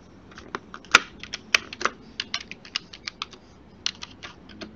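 Fingers type on a computer keyboard, a run of close, crisp key clicks in an uneven rhythm with a couple of louder strikes, and no talk.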